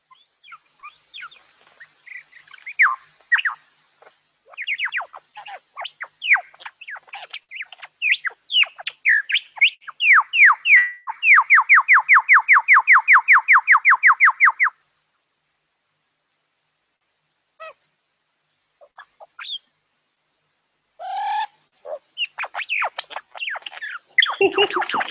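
A lyrebird mimics a run of varied sounds: scattered chirps and whistles, then a long rapid mechanical-sounding rattle of even pulses, a pause, and more sharp calls and squeaks, clear and close.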